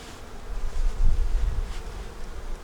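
Honey bees buzz at a winter hive fed with dry sugar under paper, a low close hum that swells for a moment midway, with no voices.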